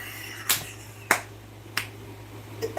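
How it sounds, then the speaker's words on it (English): A few sharp hand claps, about three spaced slowly and evenly, then a faint fourth, close and distinct over a quiet room hum. "this literally you clapping your hands"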